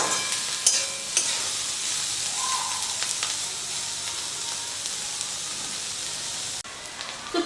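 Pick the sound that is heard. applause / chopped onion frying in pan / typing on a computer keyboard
chopped onion frying in pan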